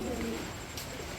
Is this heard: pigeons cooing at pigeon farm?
yes